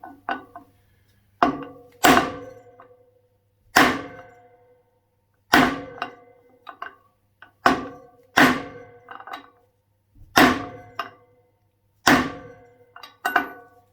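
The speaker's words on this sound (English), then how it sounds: "you can focus your hammer blows on this side of the socket" Loud, close metallic hammer blows strike a socket driving a Suzuki DR200 front wheel bearing about a dozen times in an uneven rhythm, each ringing clang dying away quickly.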